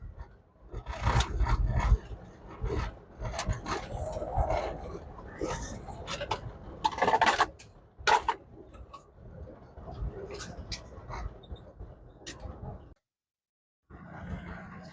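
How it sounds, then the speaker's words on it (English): Loud rushing wind and road roar from a 1974 Chevrolet C10 pickup driving with windows down, with rattles and ticks throughout, and a brief drop near the end. "Sorry for the road noise, but I got the windows down."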